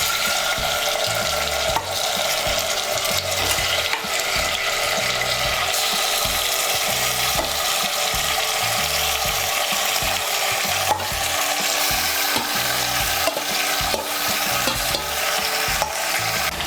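Spice-marinated chicken added to a pan of frying potatoes, a loud continuous sizzle with stirring and scraping throughout, close up, no voices.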